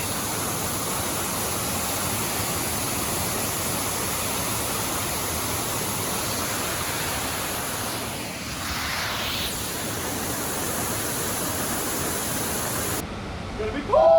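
Loud, continuous rushing water roaring steadily as it pours down a hole, with no voices.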